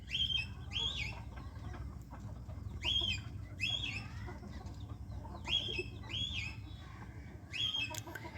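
Pink silkie chickens cluck in a repeated pattern of short, bright calls over a steady low farmyard rumble, fairly close and with no talking.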